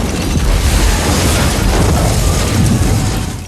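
A bomb blast at the Bonwit Teller department store in New York City in Die Hard with a Vengeance erupts as a loud, sustained roaring explosion that rumbles for several seconds before tailing off.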